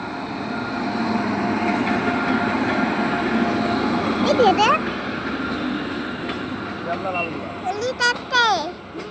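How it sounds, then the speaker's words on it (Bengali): The Lalgola to Sealdah train rolls past nearby with a steady, moderately loud rumble of wheels that slowly fades, while people talk excitedly over it toward the end. "ট্রেনটা লালগোলা থেকে শিয়ালদা যাওয়ার জন্য রওনা দিয়েছে"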